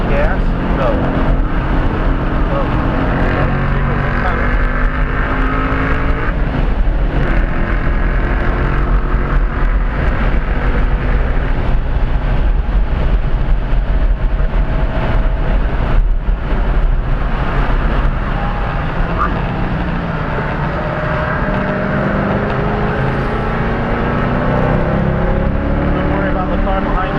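A race car engine drones loud and steady at Road America, its pitch rising and falling as the driver works the throttle through corners, heard continuously from inside the car for nearly half a minute.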